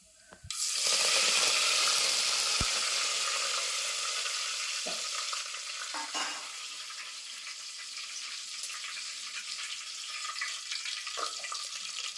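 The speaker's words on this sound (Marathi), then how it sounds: "फोडणी घालूया" Mustard seeds crackle and sizzle in hot oil in a pot on a wood-fired stove as tempering for a jackfruit vegetable dish. A loud burst of frying hiss starts near the beginning, then settles into a steady sizzle with a few clinks.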